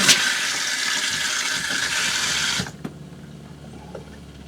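Hot water sprays steadily from an RV shower, a loud continuous hiss that abruptly cuts off near the end, leaving faint room noise and a small knock.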